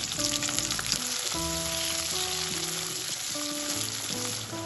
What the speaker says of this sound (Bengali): সব উপকরণগুলো তেলের সাথে বেশ ভালোভাবে আমার ভাজা হয়ে গেছে